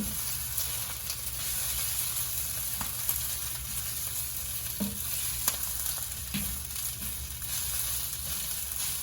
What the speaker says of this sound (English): Tossing it so there's not tons of cooked pieces and uncooked pieces.